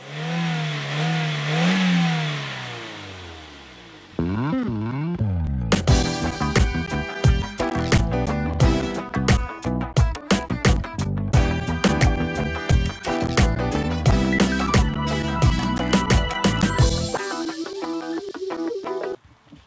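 A 2001 Toyota Avensis with a 1.6-litre 16-valve engine revs up and down for a few seconds, close and fairly loud. Busy, rhythmic music then takes over for the rest.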